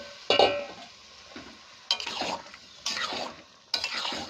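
Spiced curry poured into a pan of frying spices and egg, then stirred, giving several loud scraping, sizzling bursts in an irregular rhythm, close by with no talk.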